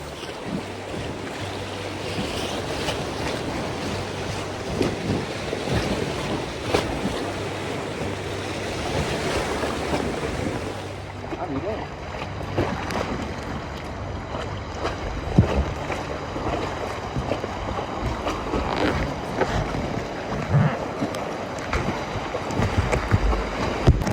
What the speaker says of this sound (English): the flow of the river was increasing, so the boat started to go very fast